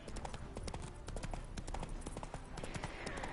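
Horse hooves clip-clop steadily in The Witcher 3: Hearts of Stone, a continuous run of close, evenly paced hoofbeats over a dense game soundscape, with no voices.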